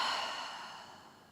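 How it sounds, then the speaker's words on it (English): A deep exhale through the mouth during a calming yoga breathing exercise, a smooth breathy rush that starts strong and gradually tapers away, close and alone. "Exhale through your mouth."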